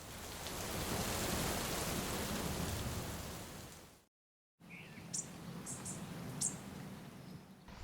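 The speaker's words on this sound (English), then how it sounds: "The mild spring rain was just starting, filtering through the tree leaves above." Mild spring rain filters through tree leaves outside a cottage garden as a steady, soft hiss that cuts out briefly. It then returns quieter, with a few faint bird chirps and drips.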